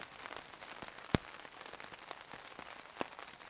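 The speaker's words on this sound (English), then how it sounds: "it's raining and it's forecast rain all day tomorrow" Steady rain falls through woodland at a wild camp, a soft continuous patter with scattered louder drips striking nearby surfaces, including one sharp close drop, heard alone with no voices.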